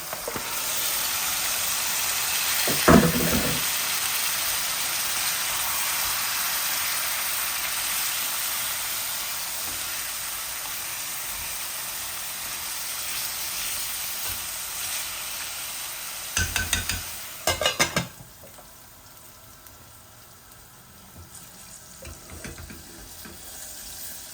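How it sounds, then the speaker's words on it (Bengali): Lamb meat fries in a pan with a steady, moderately loud sizzle, broken by a few short clattering bursts as a utensil stirs it. "এখন আমি মিটগুলা, এই যে মিট দিয়ে দিচ্ছি।"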